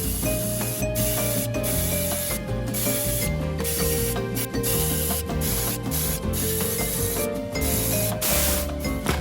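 An airbrush or spray gun lays a base coat onto new parts for a 1/6-scale figure, a continuous loud hiss broken by short pauses and bursts over nearly ten seconds, with no talking.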